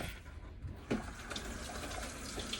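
Tap water runs as a basket is rinsed during disinfection, giving a soft, steady hiss of flowing water that fills the short clip.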